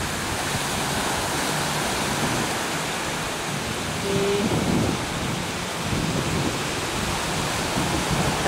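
Sea surf at Coveñas beach, a steady broadband wash of waves rolling in without a break, fairly loud and constant, with slight swells in the middle and near the end and no voices.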